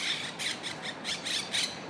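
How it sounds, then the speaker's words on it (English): A parrot lets out a string of harsh, rasping squawks in short bursts, faint and somewhat distant over a steady noisy background, with no talking. "parrot,"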